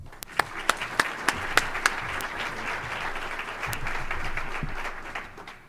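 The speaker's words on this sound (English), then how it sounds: "Let's give Kevin a round of applause" An audience at an economic development event claps, starting with a few sharp, separate claps from nearby hands before swelling into a steady round of applause that carries on and tapers off.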